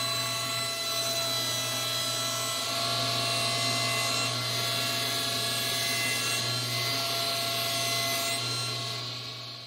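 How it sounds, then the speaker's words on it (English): Power tool cutting the wooden front of a homemade computer case into strips, a steady whining hum with a sustained, even drone throughout, close and moderately loud. "I'm going to cut the front out in strips, and that way I'll form the holes as I go through."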